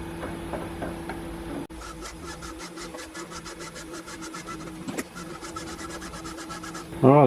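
A button die with a tapered lead cutting a thread, about 6 mm, on a part for a Webster engine model: a steady, faint rhythmic grinding and scraping close by, with a short jolt partway through and no speech.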